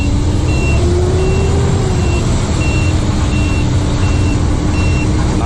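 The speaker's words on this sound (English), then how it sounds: "Nice Western Star right there." A Western Star truck idles loudly nearby with a deep steady diesel rumble, while a regular series of high reversing beeps repeats throughout.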